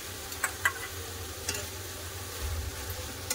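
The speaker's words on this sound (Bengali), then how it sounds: "কাজু বাদাম দিয়ে ভালো করে একটু কষে নেবো।" Masala being stir-fried with cashew paste for chicken do pyaza, with quiet stirring and faint sizzling throughout and a few soft scrapes of the spoon against the pan.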